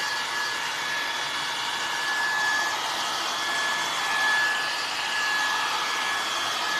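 A hair dryer blows a steady, loud rush of air to dry paint on a rustic sunflower craft, running continuously without any talk.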